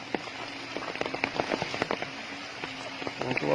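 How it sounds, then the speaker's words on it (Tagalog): Steady rain patters on a hard surface, with scattered louder drops tapping irregularly throughout. "Umuulan ngayon mga kasyakoy."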